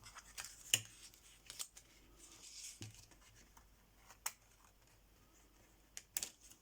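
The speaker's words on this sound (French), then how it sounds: "Je vais couper là et je recouperai après." Scissors snip through paper while making paper flowers, a few sharp, separate cuts spaced out over quiet rustling and handling.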